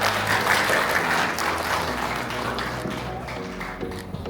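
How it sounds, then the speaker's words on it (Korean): Full, steady audience applause welcoming a speaker to a lecture at a university RISE project results-sharing event, loud and continuous with a faint background tone, easing slightly toward the end. "단장님을 큰 박수로 맞아주시기 바랍니다"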